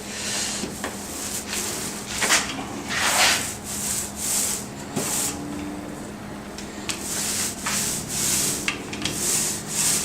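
100% solids epoxy is spread onto cork with repeated rubbing, scraping strokes at close range, one after another in an uneven rhythm.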